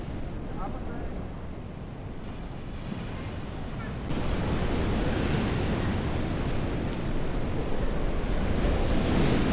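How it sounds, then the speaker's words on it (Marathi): Roaring surf of sea waves crashing on rocks at Harihareshwar, with heavy wind rumble, loud and continuous, swelling louder midway; faint voices sit under the noise. "लाटा इतक्या जोरात येतात की इकडे पूर्ण कोरीव काम झालेलं दिसतंय बस"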